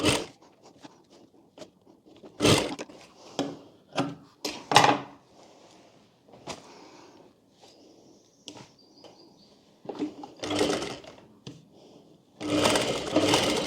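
A sewing machine stitches the neckline of a child's fish-cut lehenga choli in short whirring bursts, separated by pauses filled with fabric handling and soft clicks, close and clear.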